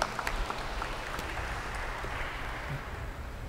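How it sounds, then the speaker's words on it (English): Congregation clapping together at an evening Holy Mass in church, a steady wash of applause with scattered sharper claps that holds at an even level throughout, no voices over it. "So can we give God a big clap offering because it is a joy to receive Jesus."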